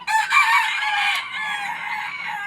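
Several gamecocks crow loudly and close together in a Philippine rooster farm, their overlapping, strained calls filling the whole stretch with no talk.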